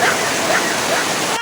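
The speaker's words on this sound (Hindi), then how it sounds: "गिरी रूम में पानी आ गया" Water pours into a room with a loud, steady rushing roar that fills the short moment before cutting off abruptly.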